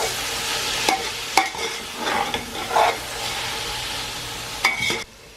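Tomatoes and spices fry in a pan for a chicken and okra curry, giving a steady sizzle broken by several clinks and scrapes as a spoon stirs. The sizzle cuts off at the end.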